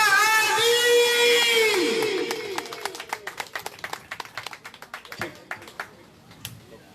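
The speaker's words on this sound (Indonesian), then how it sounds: "Beri tepuk tangan sebelah, mari kita sambut Bapak Adi." Audience applause greeting a speaker at an Indonesian business seminar rises after a fading tonal sound and continues as scattered, irregular claps from a modest crowd that taper off.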